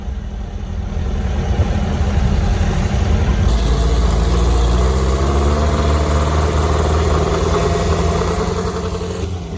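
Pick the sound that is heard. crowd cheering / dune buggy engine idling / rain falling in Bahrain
dune buggy engine idling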